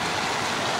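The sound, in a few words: fountain water splashing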